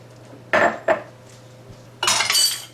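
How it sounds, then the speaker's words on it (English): Mayonnaise going into a bowl of dry ranch dressing ingredients, two quick clinks of a utensil on the bowl followed by a longer scraping, clattering pass. "so all we have to do now is put our mayonnaise in"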